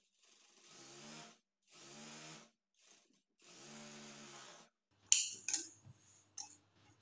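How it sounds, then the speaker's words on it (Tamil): A sewing machine stitches the hem of a blouse, leaving a one-inch gap. Four short whirring runs are separated by pauses, followed by a few quieter clicks and clatters. "இப்போ கீழே வந்து நான் வந்து ஒரு 1 இன்ச் கேப் விட்டு ஒரு தையல் வந்து போட்டுக்கிறேன்."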